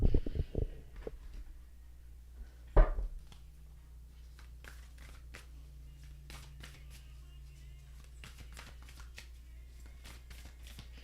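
Oracle cards are shuffled during a live card reading: a few sharp riffling bursts at the start, then a longer stretch of soft, steady card rustling and flicks.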